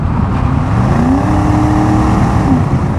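A 1986 Chevrolet Camaro IROC-Z with the TPI 5.0 V8 accelerates hard on a test drive, its engine rising steadily in pitch through a continuous loud, close drone with no talk over it.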